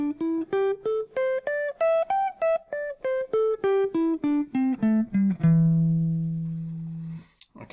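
Guitar running the fourth pattern of the minor pentatonic scale, the A form, in clean single notes climbing and then descending at a steady pace, ending on a long ringing low note, close and alone.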